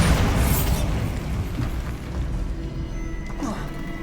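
A Bombarda blast spell in Hogwarts Legacy, a loud, low rumbling explosion that rolls on and slowly fades, with a heavy boom at the start and faint debris-like crackles scattered through the tail.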